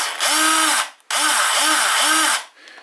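A brushed Black+Decker cordless drill whirs loudly in two bursts, spinning up and winding down with a brief pause between, close by.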